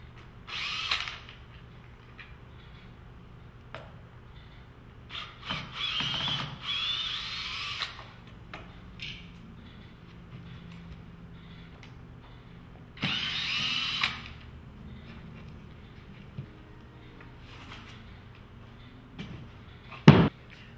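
A power drill backs out 1.5-inch screws from a golf stance mat in several short whirring bursts separated by quiet pauses, with small clicks and handling knocks between runs.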